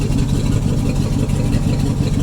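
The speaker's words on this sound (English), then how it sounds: "Got it running, timing chain was changed. Idling pretty good there now." A 1973 Ford Ranchero GT with a 351 4V V8 and a freshly changed timing chain idles steadily up close, a deep, even engine rumble with no talking.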